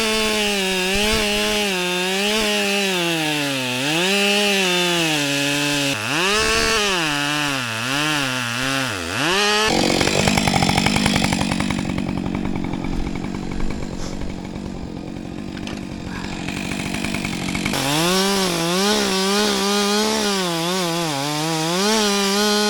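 Chainsaw with a chain needing sharpening, cutting into a tree close by, the engine revving and wavering for about ten seconds, then bogging into a rough grinding cut before revving freely again.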